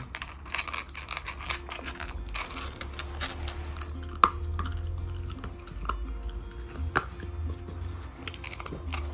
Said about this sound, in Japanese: いい音だね、ポリポリポリポリポリポリポリポリポリポリポリ